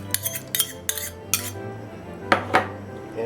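A spoon stirs raisins and walnuts into carrot cake batter in a bowl, with a few sharp clinks of metal against the dish and soft scraping between them, close and with no talk.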